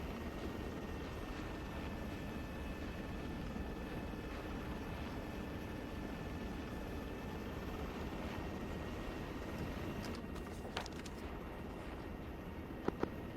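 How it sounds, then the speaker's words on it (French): A distant allied helicopter approaches from the north-northwest in the Arma 3 military simulation game, a steady low rotor and engine drone that persists alone throughout, with a few faint clicks near the end. "réinsertion en hélicoptère allié en provenance du nord-nord-ouest"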